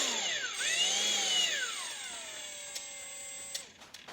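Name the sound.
Milwaukee M18 FUEL mud mixer drill running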